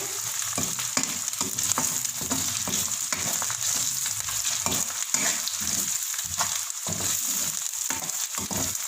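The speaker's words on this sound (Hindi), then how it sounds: "लहसुन जब भूनता है तो इसकी बहुत अच्छी खुशबू आती है। ये अच्छे से भून रहा है।" Steady crackling sizzle of garlic frying in a hot pan, with occasional stirring scrapes throughout; close and continuous, no voices.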